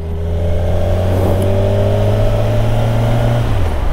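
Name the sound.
Kawasaki Ninja 1000SX four-cylinder motorcycle engine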